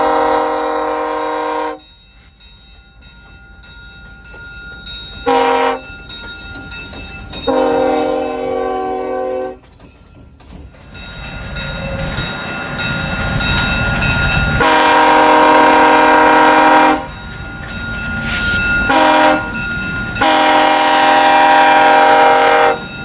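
A CSX SD23T4 locomotive on the Carrothers Secondary sounds repeated loud horn blasts, long and short, over the rumble and clatter of the passing train and rail cars, with no talking.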